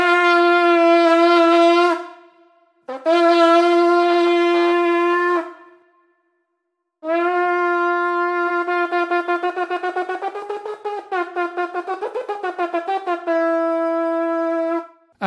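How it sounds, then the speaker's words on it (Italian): An ancient Etruscan animal-shaped horn from the Tomb of the Chariots at Populonia blown in loud, sustained brassy blasts with short pauses, the later stretch wavering and pulsing rapidly before a final steady tone, no voices. "Questo è il suono del corno della tomba dei carri di Populonia"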